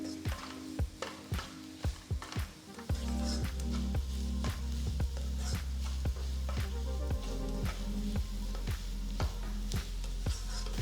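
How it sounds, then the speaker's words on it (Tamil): Four finely chopped onions sautéing in a pan over medium flame, a steady sizzle broken by regular rhythmic knocks of stirring, close and continuous with no talk. "மீடியம் ஃப்ளேமில் வச்சு ஒரு 5 நிமிஷம் வெங்காயத்தை வதக்கணும்"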